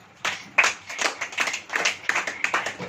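A church congregation claps their hands in a lively, steady rhythm during a Hindi Christian sermon, with repeated sharp claps carrying through the hall at moderate loudness.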